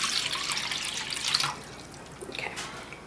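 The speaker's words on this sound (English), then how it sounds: "the first thing we're going to add is the 2 cups of water" Two cups of cold water pour into chocolate cupcake mix in a bowl, a bright splashing gush lasting about a second and a half, then fading into softer trickles and drips.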